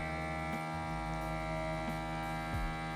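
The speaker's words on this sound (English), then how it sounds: "get it onto that vacuum sealer" Vacuum sealer running on a bagged chuck roast for sous vide, giving a steady electric motor hum with strong tonal whine, continuous and close, with a few brief dips in pitch.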